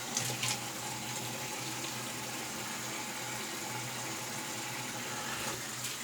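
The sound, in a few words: rinsing off after shaving under running water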